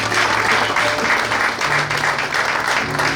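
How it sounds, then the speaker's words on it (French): Steady, loud audience applause at a book launch, a continuous wash of clapping from many hands lasting throughout, with faint tonal hum beneath. "Nous pouvons aussi applaudir pour cela."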